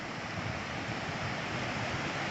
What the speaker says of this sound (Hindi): और पानी में वेग भी बहुत ज्यादा तेज है